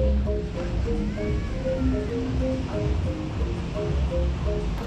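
Ocean surf washes steadily onto a busy beach in Canggu, Bali, a continuous broad rush under faint background voices and scattered tonal sounds from people nearby.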